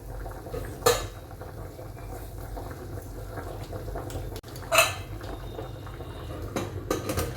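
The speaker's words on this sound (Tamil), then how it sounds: "நல்லா கொதிக்குதுங்க." Water boils in a pot of eggs on a kitchen stove, a steady low bubbling under faint background noise, with two brief clinks of metal utensils or pots standing out.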